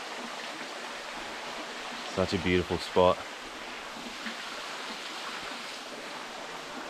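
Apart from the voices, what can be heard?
waterfall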